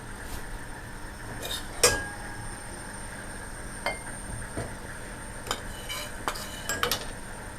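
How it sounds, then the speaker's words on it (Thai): Long eggplant fries with a faint, steady sizzle in oil in a pan, broken by several sharp clicks and scrapes of a utensil against the pan. "ต้องทอดมะเขือก่อนนะคะ สูตรคุณตั๊กก็จะทอดมะเขือก่อนนะคะ"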